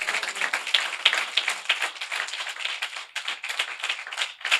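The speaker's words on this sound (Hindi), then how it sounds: "तालियां बजा सकते हैं" A congregation claps together during a Friday sermon, with brisk, fairly even rhythmic clapping that carries on steadily with brief dips, moderately loud and free of speech.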